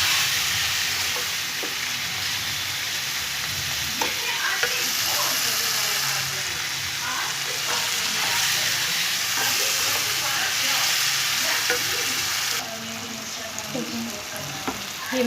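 Turmeric and chili frying in hot oil in a pan for a spinach and lentil dish. A steady, close sizzle with occasional light clicks runs throughout and softens slightly near the end.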